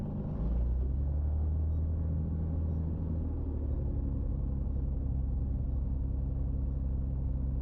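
An experimental light aircraft engine on takeoff from runway 17 at Somerton rises into a loud, steady, throbbing drone that holds without a break.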